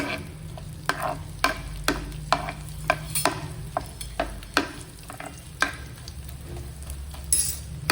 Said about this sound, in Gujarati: ઘી થોડું ગરમ થાય તેમાં થોડો ગુંદ ઉમેરી આપણે તેને તળી લઈશું.